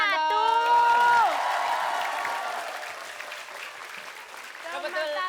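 Studio audience applause on an Indonesian TV variety show, loud and dense at first with a brief musical sting, then fading to a lighter patter with scattered claps and cheers.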